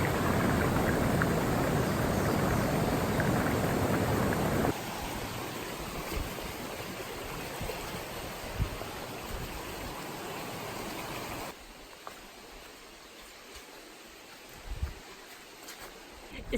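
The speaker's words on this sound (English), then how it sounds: "It started raining about 10 minutes ago or so, as expected." Steady rain on a hiking trail along the Appalachian Trail, a broad hiss that is loud at first, then drops to a softer, even patter with a few faint knocks.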